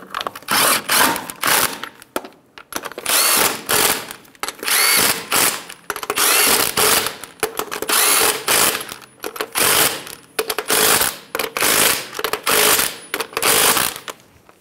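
A power tool snugs down the wheel lug nuts on a 2010-2014 Subaru Outback, loud close bursts of whirring and rattling impact, about ten runs separated by short pauses.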